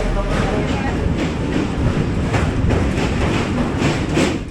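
A Sealdah–Budge Budge local train rumbles loudly along the tracks near Akra station, with steady rolling noise and a rhythmic clatter of wheels passing over rail joints.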